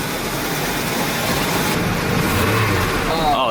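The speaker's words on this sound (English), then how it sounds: "He's gonna give us some gas." A Jaguar XJ6, just started after a tune-up, has its engine revved in a steady, loud, close-up roar with a slight rise toward the end, with some voices faintly mixed in.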